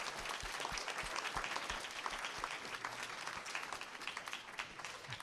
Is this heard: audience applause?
yes